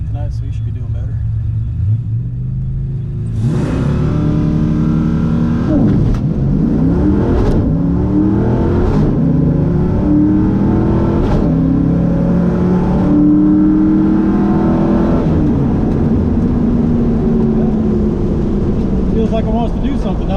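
Inside the Trooper drag car on a blistering 8.5-second run with 4.56 gears, the engine roars close and loud, rising sharply in pitch through several shifts before settling into a sustained high drone.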